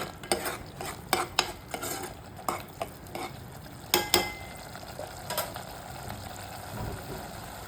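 Cashews stirred and fried in a pan for Kashmiri dum aloo: irregular close scrapes and clinks of a utensil against the pan over a soft, steady sizzle, with no talking.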